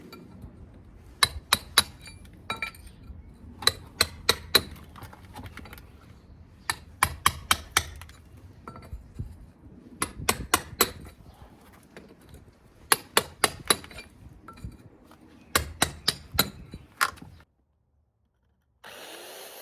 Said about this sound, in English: or I'll show you how we do it with the plug-in chisel.